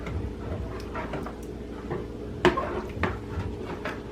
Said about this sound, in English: I'm just gonna stir this gravy up a little bit in here